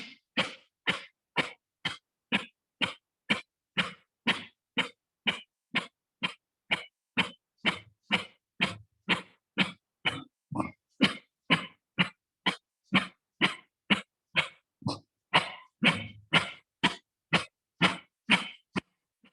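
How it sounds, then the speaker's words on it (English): A person doing yoga fire breaths: rapid, forceful, evenly spaced bursts of exhaled breath, roughly two per second, close and loud, with no talking. "Inhaling halfway and taking a round of fire breaths"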